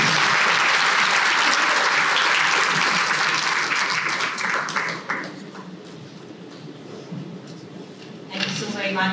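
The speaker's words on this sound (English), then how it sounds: "a round of applause" Applause after a keynote address by a High Commissioner at a business conference, a sustained loud audience ovation that thins out midway, followed by a speaker's voice over the last moments.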